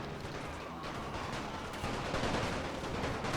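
Massed musket volleys from infantry lines in Napoleon: Total War, in a Great War mod, crackle as a dense, distant roll of overlapping shots that swells slightly toward the end.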